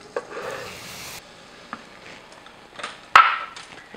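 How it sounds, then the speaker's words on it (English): Flour being whisked into a melted base in a pan makes soft, sporadic scraping and light sizzle, fairly quiet, with a sharp clack of the whisk against the pan near the end. "And just whisk that"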